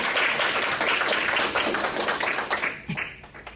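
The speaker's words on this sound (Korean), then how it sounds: "박수로 맞아주시기 바랍니다" An audience applauds to welcome a presenter at an academic conference session, a dense, steady wash of clapping that thins and fades toward the end.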